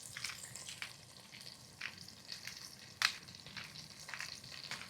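Potatoes fry in oil in a pan for Persian tahdig with rice, giving a steady soft sizzle with scattered crackles and pops, close and continuous with no talk.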